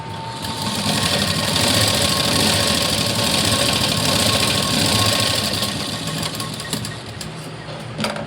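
Electric sewing machine stitching a tuck in a blouse, a loud steady mechanical whir running continuously before easing slightly toward the end.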